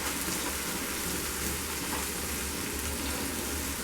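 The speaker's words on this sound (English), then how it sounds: "and we will fry" Onion, chili, ginger and tomato paste frying in hot mustard oil, a steady dense sizzle with crackling spatter filling the whole stretch without pause.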